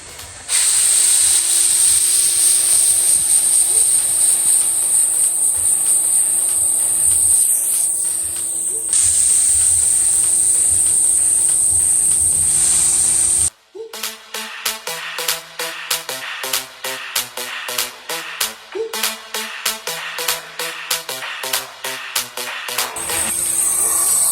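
Paint spray gun shooting black paint onto a car hood: a steady, loud airy hiss runs unbroken for about thirteen seconds, then gives way to a series of short rhythmic knocks and taps.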